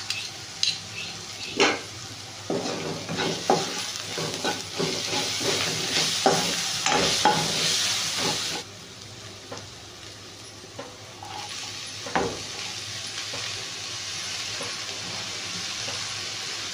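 Ginger garlic paste frying in a pan for a leafy greens and egg curry makes a close hissing sizzle with repeated spoon scrapes and clinks. It is loud for the first half, then drops to a quieter simmer with an occasional tap, and no voices.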